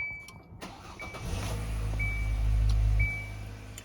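A 2014–2019 Kia Soul fitted with an aftermarket push-button start gives a few repeating high warning chimes, then a brief starter crank as the engine catches and settles into a loud, steady idle rumble, heard from inside the car.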